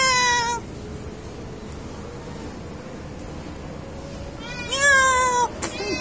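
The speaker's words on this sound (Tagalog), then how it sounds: "Nilabas ko si Timmy kay siging meow." Timmy, a cat out on a 25th-floor building, gives a short meow, then a long faint tonal whine, then a loud, wavering meow near the end, all up close.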